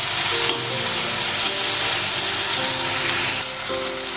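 Water spinach frying in a pan over a medium gas flame, giving a steady, dense sizzle and hiss with no voices, constant and close throughout.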